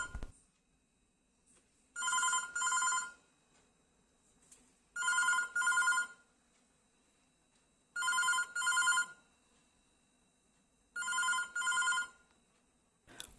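A BSNL fiber landline phone rings in four double bursts, each pair of rings followed by a pause, moderately loud in a quiet room.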